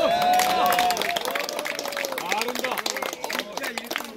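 Salute-and-applause for committee chairs at a founding anniversary gathering: busy hand clapping from a crowd, mixed with voices and cheering over it throughout.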